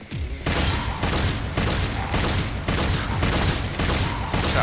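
Rapid bursts of gunfire from Devil May Cry 5, dense and loud, with repeated volleys running almost continuously after a brief quiet start.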